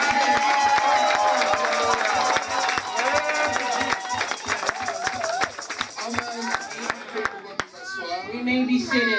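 A church congregation cheers and acclaims, crowd voices and scattered clapping rising in a loud sustained swell, with someone talking over it.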